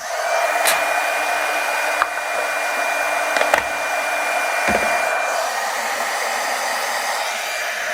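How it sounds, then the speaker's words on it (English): Heat gun warming up, a steady close broadband blowing hiss with a constant motor whine, running alone with a few faint clicks. "Warm up our heat gun here"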